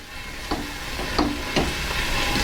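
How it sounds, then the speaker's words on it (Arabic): Shrimp sautéing in a pan with a stock cube for shrimp rice, a constant close sizzle punctuated by three distinct scrapes of a spoon stirring the pan at roughly half-second intervals. "وهنفضل نقلب كده بالجمبري ياخد تشويحه كويسه."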